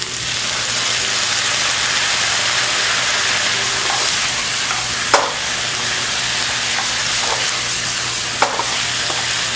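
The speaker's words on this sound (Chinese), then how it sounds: "酱油1大匙从锅边淋下来" Soy sauce drizzled down the side of a hot wok sizzles while Taiwanese-style rice noodles are stir-fried, a steady loud frying hiss with occasional sharp spatters and clinks, no talking.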